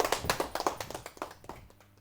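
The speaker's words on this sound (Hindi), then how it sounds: "एक बार तालियों से आमंत्रण दें इरशाद बेताब।" At a Hindi Diwas poetry gathering, a small audience claps to welcome poet Irshad Betab, distinct individual claps in a loose, quick rhythm that thin out and fade within two seconds.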